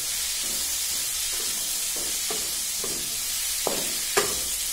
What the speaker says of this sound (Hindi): 1 चम्मच धनिया पाउडर ऐड करेंगे और चम्मच से इसको अच्छे से मिलाएंगे।